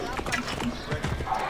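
Horse hooves clip-clop at a steady trot in a video game, close and moderately loud, with someone talking over them.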